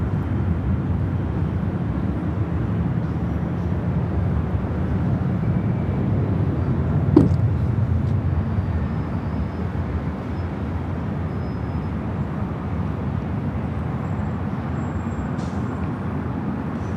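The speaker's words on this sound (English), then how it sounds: "This is Condor 2081 taking off to Frankfurt on the A330 Neo" Condor Airbus A330neo taking off from Los Angeles International Airport, bound for Frankfurt: a steady, broad jet-engine roar lasting the whole stretch, heavy in the low end and fairly loud, with no voices.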